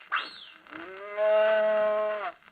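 A man imitating a cow's moo as part of a children's story performance, with a short rising whoop followed by a long, low, resonant lowing note that swells and then cuts off, heard alone and close.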